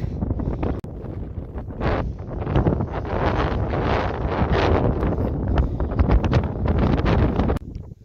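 Strong wind buffeting a microphone outdoors on a sandy, stony road under construction: a loud, continuous low rumble and roar that swells and dips for several seconds before cutting off abruptly near the end.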